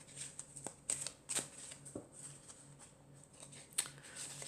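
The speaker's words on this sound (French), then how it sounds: "je vais prendre encore quelques cartes" Tarot cards being shuffled and drawn close up, a few quick riffling bursts and soft card slaps at a quiet level, with no talk.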